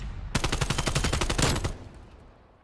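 An AK74u in Black Ops Cold War fires one sustained automatic burst of about a dozen rapid, evenly spaced loud shots, then the sound cuts off and fades into a brief ringing tail.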